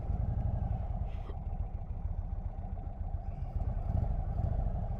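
A 2025 Indian Sport Chief RT motorcycle engine idles at Daytona Bike Week with a steady, close, low rumble that holds evenly throughout, alone with no talk.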